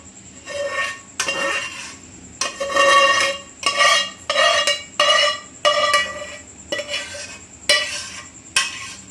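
Homemade apple jam scraped and spooned from a cooking pot into another vessel, with repeated metallic clinks and scrapes of a utensil against cookware in an irregular rhythm, close and fairly loud, with no talking.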